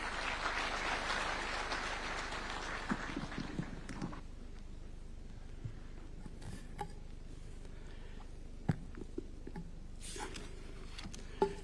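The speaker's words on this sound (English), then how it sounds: "A round of applause." An audience at a presidential event in the KICC hall in Nairobi gives a brief burst of applause that fades after a few seconds. Quiet room tone follows, broken by a few scattered knocks.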